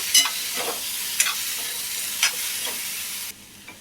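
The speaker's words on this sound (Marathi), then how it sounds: "हे कापून घेतलेले सगळे टोमॅटो आपण टाकून घेऊ पटकन मिक्स करून घेऊया" Chopped tomatoes for a tomato chutney sizzle steadily in a hot pan, with a few sharp scraping stirs breaking through the hiss before the sound drops away near the end.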